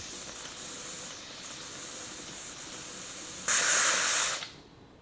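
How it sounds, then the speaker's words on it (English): Steady steam hiss from an Instant Pot's silver vent while cooking pulled pork, with a louder, harsher burst of hissing near the end before it fades away. "Eventually some steam will start coming out the little silver chimney"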